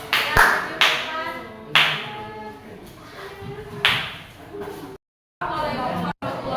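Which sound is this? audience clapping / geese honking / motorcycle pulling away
audience clapping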